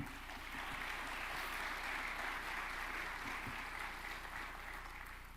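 A convention audience at a Huntington's disease research forum claps warmly, a broad steady roar of many hands that swells quickly and sustains for several seconds.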